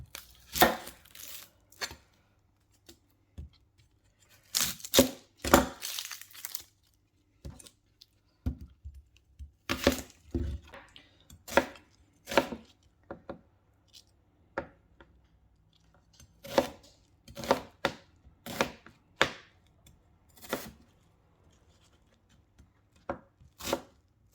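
A knife chopping a whole onion on a board for a minced beef casserole: bursts of quick, sharp, close taps, then pauses, repeating irregularly over a quiet background with no talking.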